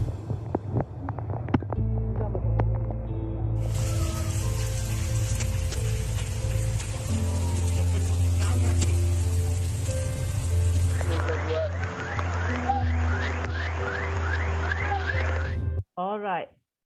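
Heavy rain falls steadily during flooding in Penampang, Sabah, Malaysia, a dense continuous hiss with low rumbling water, while music and background sounds play alongside throughout.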